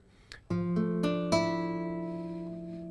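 A guitar chord with its notes sounding one after another in a quick roll, then ringing out together and slowly fading, quiet and alone.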